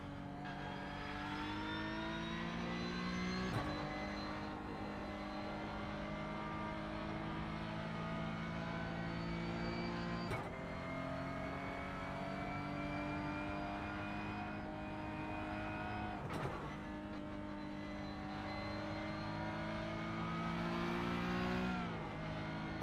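Race car engine in a racing video game on a qualifying outlap, droning steadily with sustained harmonic whine, three sharp gearshift breaks, and slight rises in pitch between them, alone without talk.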